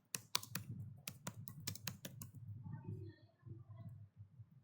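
Rapid clicking keystrokes on a computer keyboard, a dense burst of close, crisp taps that thins to sparse, lighter presses, faint and alone.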